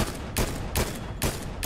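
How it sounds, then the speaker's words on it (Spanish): Rapid bursts of gunfire in the video game Fortnite, four loud crackling volleys spaced roughly every 0.4 seconds, close and dense with no talk over them. "Sí, acá hay tiros."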